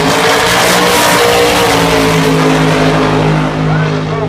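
A 1987 Camaro makes a drag racing elimination pass with a loud, sustained engine roar that rises in pitch as it accelerates down the strip. Faint track announcing can be heard beneath it.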